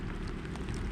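Rain at a boat ramp on the Osage River, a dense, even hiss of drops on surfaces with a low rumble beneath, steady and close for a brief moment.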